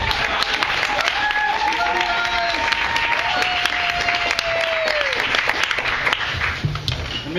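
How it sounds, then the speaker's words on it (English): Steady audience applause fills a community event celebrating the opening of a new space, with continuous clapping throughout and voices and shouts rising over it. "So everybody have a round of applause for everybody who's worked so hard to start up this space here."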